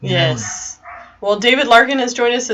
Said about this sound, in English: if you can hear the dog in the background